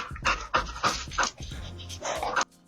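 A dog panting hard in quick, breathy bursts, close by, with short pauses between rounds of rapid breaths.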